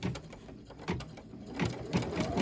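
An embroidery machine stitches a crisscross fill pattern on a boutique dress hanger design, giving a steady, moderately quiet mechanical whir with regular rhythmic needle thumps.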